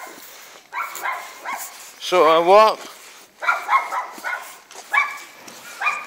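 A neighborhood dog barks repeatedly in short bursts while someone speaks over it, and one long, close, howling bark stands out from the rest.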